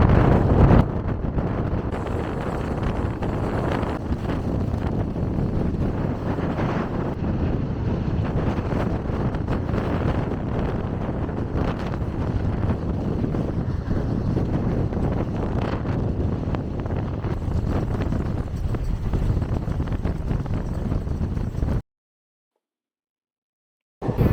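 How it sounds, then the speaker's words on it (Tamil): Strong wind roars around a moving Bangalore–Chennai double-decker train, a loud, constant buffeting rush that continues for over twenty seconds before cutting out abruptly near the end. "பார்த்தீங்களா காத்து எவ்வளோ அதிகமாக இருக்குன்னு."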